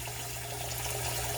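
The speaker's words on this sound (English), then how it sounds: "the water doesn't run any faster, so I'm just gonna have to wait for it" Tap water runs into a sink during cast iron pan cleaning, a steady close hiss and rush that continues unbroken with no voices.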